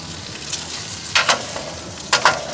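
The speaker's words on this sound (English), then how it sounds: "Let's give this a nice little mix and then in for another 5 minutes." Brisket burnt ends sizzle on a hot Kamado Joe Big Joe grill as they are stirred, a steady close frying hiss broken by a few louder scraping bursts, with no voices.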